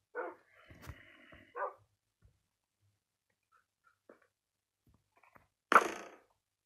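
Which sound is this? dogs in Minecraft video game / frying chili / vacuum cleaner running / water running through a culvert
dogs in Minecraft video game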